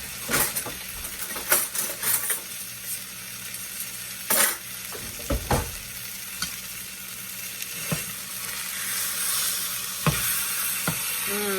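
Pork loin sears in a hot pan, sizzling steadily with sharp crackles and occasional clinks as the seasoned meat is turned over, fairly close and free of talk.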